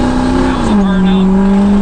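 A Ford 6.0 Powerstroke diesel truck doing a burnout: a loud, sustained engine roar held at high revs, its pitch sagging slightly partway through, running unbroken from start to finish.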